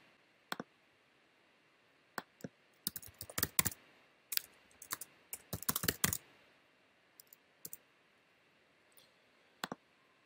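Keys clacking on a computer keyboard while an Italian food blog address is entered, in sparse close clicks and short bursts of several strokes with pauses between, recorded in a quiet room.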